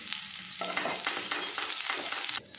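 Finely chopped curry leaves drop into hot mustard oil with black mustard seeds, and a sharp crackling sizzle bursts out and holds loud and close before cutting back near the end, with no voices.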